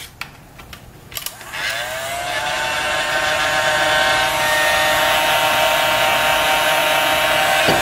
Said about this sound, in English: I use a heat gun because you get a lot better results than trying to use like a lighter